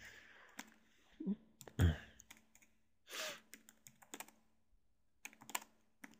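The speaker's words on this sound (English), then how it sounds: "let me go ahead and type it here." Typing on a computer keyboard, with irregular bursts of clicking keystrokes and short pauses between them, close and fairly quiet, with no speech.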